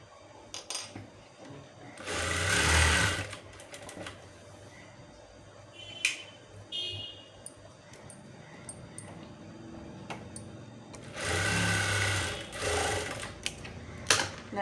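Sewing machine stitching a blouse, two short whirring bursts of running stitches a few seconds apart, close, with small clicks and fabric handling in the quiet stretch between.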